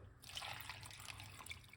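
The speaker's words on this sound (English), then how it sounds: "we're just going to add some water" Water poured in for a kiwi drink, roughly a cup added in a kitchen, a steady close trickle and splash lasting throughout, with no talk over it.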